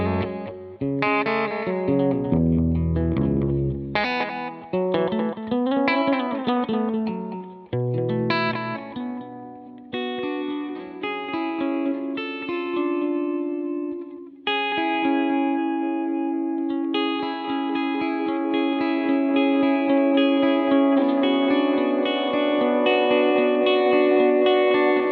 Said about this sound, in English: Let's turn on some delay.